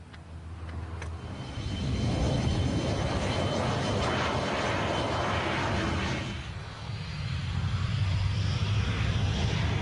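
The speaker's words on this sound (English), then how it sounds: "On takeoff, the MiG easily outdistanced its two F-86 chase planes" MiG-15 jet fighter on its takeoff run, a broad roaring engine rush that swells, dips briefly and surges again, loud and continuous with no voices.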